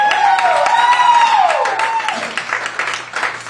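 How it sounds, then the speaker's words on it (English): Pub crowd at a stand-up comedy night breaks into applause, a rough wash of clapping with a voice rising and calling out above it early on, then thinning slightly toward the end. "Round of applause."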